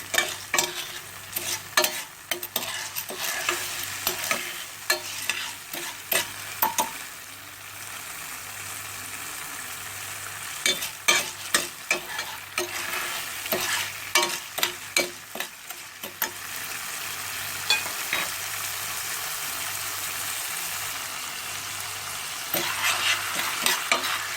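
Popcorn kernels being stirred in a pot, a constant light sizzle broken by repeated sharp scraping and clanking strokes of the spoon against the pot, close and fairly loud, with no talking.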